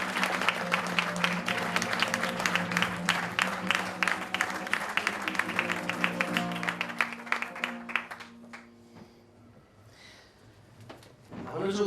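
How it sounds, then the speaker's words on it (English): A show audience at a mentalist performance gives steady, dense applause for about eight seconds. The clapping fades out near the end under a sustained tone and some brief voices. "A very warm round of applause for them"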